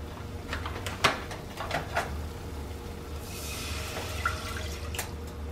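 Milk is poured into a flour and butter mixture in a home kitchen: a few light knocks and drips, then a soft, steady pour lasting a couple of seconds.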